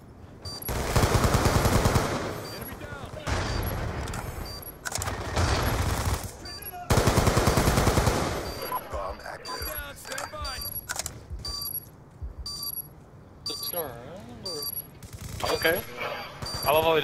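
Bursts of automatic gunfire from a shooter video game's Apocalypse DLC map, several loud sustained volleys separated by short gaps, with people talking and game sounds in between.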